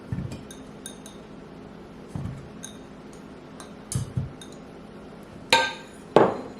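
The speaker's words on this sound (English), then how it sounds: "we're simply going to add tomatillos to our pot" Peeled, washed tomatillos dropped into a pot for salsa, giving scattered light clinks and knocks, then two louder clattering thumps near the end, with no talking.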